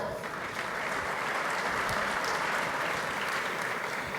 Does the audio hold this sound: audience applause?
yes